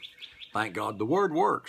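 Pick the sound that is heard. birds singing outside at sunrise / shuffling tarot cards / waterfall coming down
birds singing outside at sunrise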